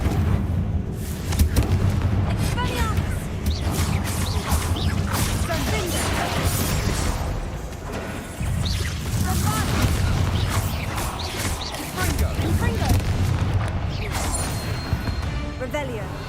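Confringo fire spells burst repeatedly in the game Hogwarts Legacy, a run of crashing blasts and booms piling up over several seconds, with a voice speaking over them now and then.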